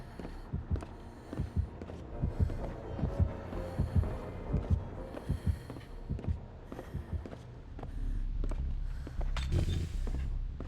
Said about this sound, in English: Heartbeat's near the small house